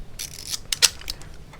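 Shutter of a Zeiss Ikon Contina with a Prontor SLK Spezial shutter and Pantar 45mm f2.8 lens firing at a slow speed: a few dry, close mechanical clicks spread over a moment, with the slower release audible between them.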